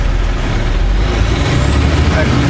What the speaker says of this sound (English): Quiet Kenworth isn't so quiet when I have the window open.